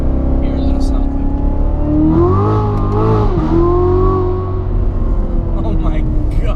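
A C7 Corvette Z06 engine revs hard as the car accelerates, its pitch climbing, dipping at a shift and climbing again, loud and close with an echoing, enclosed quality, as in a tunnel.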